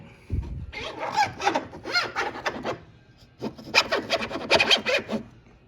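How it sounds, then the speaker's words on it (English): Aprilia Tuono V4 Sachs fork tube being slid back into the triple clamp during a fork seal job, a close series of scraping, rubbing metal sounds in two bursts separated by a brief pause. "all we need to do is slide this tube back into the triple."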